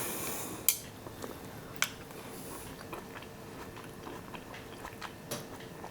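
Close, soft biting and chewing on a homemade Swabian apple bread casserole of old rolls, wrinkled apples, cinnamon and vanilla, with a couple of sharp clicks and quiet mouth sounds, no talking.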